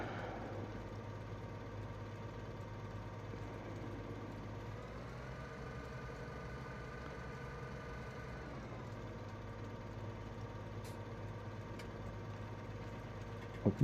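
A tractor engine idles steadily in Farming Simulator 2017, a constant low hum with a slight pitch rise mid-way, alone with no talk.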